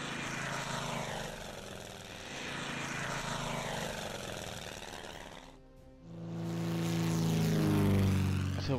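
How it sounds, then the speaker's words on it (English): Propeller aircraft engines drone steadily from a Pacific war strategy game set during the Pearl Harbor attack, with a dip midway before a louder, fuller engine roar returns. "So we have 2 planes here."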